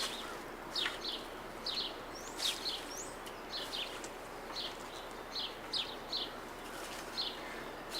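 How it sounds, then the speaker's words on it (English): Female house wren giving short, high, repeated chirps at a steady rhythm, fairly faint and a little distant, over soft outdoor background hiss. "That's a female house wren."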